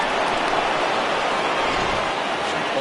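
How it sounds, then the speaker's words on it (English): Rain falls steadily in a PS4 baseball video game broadcast, a dense, even hiss of drops that fills the short stretch alone without any commentary. "And Dan, when it comes to pitching in the rain, what changes?"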